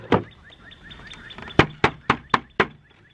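Knuckles knocking on a thin, cheap, almost paper-like plastic garden seed tray: a single hollow knock, then a quick run of five sharp light raps, close and clear with no talking.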